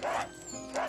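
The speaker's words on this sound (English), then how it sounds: "that was a dog dying" A dying dog in The Dog Island video game gives two soft, high whimpering yelps about half a second apart, faint and close, with tonal game music underneath.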